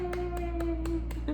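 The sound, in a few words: hands clapping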